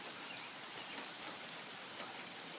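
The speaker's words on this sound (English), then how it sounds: "It's raining pretty hard." Heavy rain pours down steadily outdoors, a dense, constant hiss of drops with scattered louder splatters close by, filling the scene with no voices.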